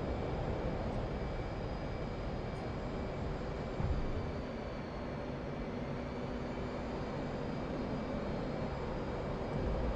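An F/A-18C Hornet jet in the DCS flight simulator game takes off with a steady, loud engine roar and whine holding for the whole stretch and a brief thump near the middle, with no voices.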